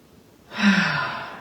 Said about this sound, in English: Deep inhale through the nose, exhale out the mouth.